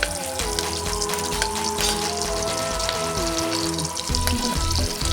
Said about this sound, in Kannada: ಎಲ್ಲನೂ ಹಾಕ್ಕೊಂಡು ನಾನು ಈ ಥರ ಫ್ರೈ ಮಾಡ್ಕೊತಾ ಇದ್ದೀನಿ